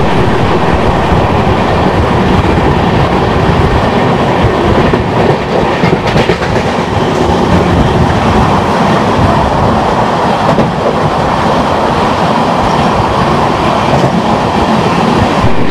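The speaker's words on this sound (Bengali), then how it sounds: "এখান থেকে ট্রেন ছেড়ে দেবে আর সোজা গিয়ে দাঁড়াবে তোমার হচ্ছে আসানসোল" The 12354 Lucknow–Howrah Super First Express runs on the tracks toward Asansol, a loud, continuous rumble with rhythmic wheel clatter and rattling carriages throughout.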